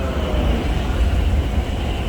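A train passes beside rice paddies in rural Korea, a continuous loud low rumble and roar that stays close and steady throughout, with no voices.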